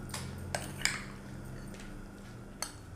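A spoon clinks against a bowl a few times while chicken marinade for Chinese biryani is mixed, light metallic taps over a low steady hum, no talking.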